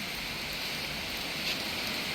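Rain falling outside a shopfront, a constant even hiss of drops pattering on surfaces, moderately loud and unbroken, with no voices.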